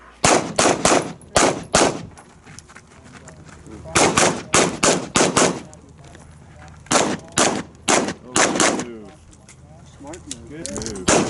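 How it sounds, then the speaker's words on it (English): Rapid bursts of pistol fire from a Glock 34 hitting steel targets at a shooting competition, loud close shots in quick strings separated by short pauses, with some faint talk between volleys. "I shot too much over here. I hit the steel and didn't get it."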